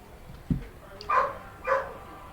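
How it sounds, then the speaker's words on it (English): A few faint, muffled dog barks from somewhere in the background, two of them close together, over a quiet room hum. "Sorry, my dog is freaking out."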